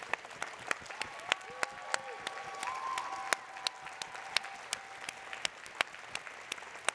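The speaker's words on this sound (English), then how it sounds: "So let's give her a round of applause, please." Audience applause at a Python Software Foundation update and awards session, sparse, distinct claps spread across the room over a low crowd murmur, with a faint whistle-like tone drifting through the middle.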